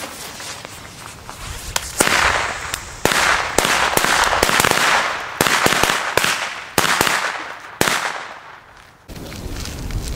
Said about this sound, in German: So, wir machen weiter mit der altbekannten bewährten Knallkette.